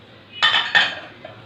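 A spoon clinks and scrapes twice in a bowl as coarsely ground roasted whole spices are mixed with other ingredients, two short close metallic strokes followed by a faint tap.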